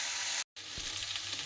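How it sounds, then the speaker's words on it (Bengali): Potatoes frying in a pan on a home stove, a steady close sizzle that cuts out for a brief moment and then resumes with light stirring and crackle. "এক পাশে আলু ভাজা করছি"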